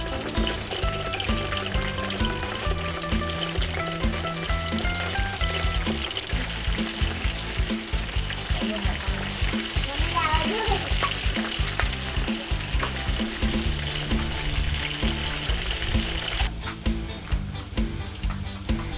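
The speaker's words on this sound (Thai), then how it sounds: "เราต้องคอยคนนะคะ เพราะว่าหมูจะได้สุกทั่วถึงกันนะคะ" Pork pieces for sun-dried Thai-style moo dad diew deep-frying in hot oil with a loud, dense, continuous sizzle and bubbling, stirred now and then, close up throughout.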